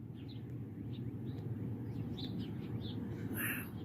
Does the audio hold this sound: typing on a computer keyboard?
no